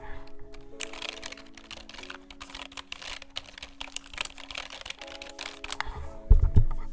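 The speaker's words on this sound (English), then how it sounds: "Some ASMR keyboard action." A computer keyboard being typed on close to the microphone, with a steady quick clatter of keystrokes over a low hum, ending in a louder thump.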